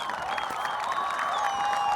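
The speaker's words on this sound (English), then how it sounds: "Not sure how well you guys can hear the crowd" A crowd cheers and murmurs at a high school football game, a steady, continuous wash of distant voices and applause filling the stands without a break.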